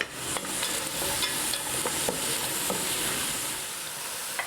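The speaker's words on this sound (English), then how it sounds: "Keep it on a medium heat, and once it's melted, add your onions. We'll gently combine these into the butter." Onions stirred into melted butter in a pan over medium heat, a dense, even sizzle holding steady throughout with a few soft clicks of the utensil, close and without voices.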